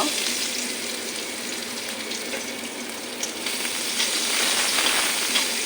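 Chopped onion hitting hot oil along with a bay leaf in a home kitchen, a continuous bright sizzle that holds steady and grows slightly louder toward the end, close and alone.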